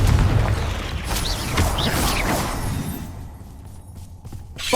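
A Confringo explosive spell goes off in Hogwarts Legacy, loud booming bursts over a dense rumble of game combat effects that settle into quieter ambience toward the end.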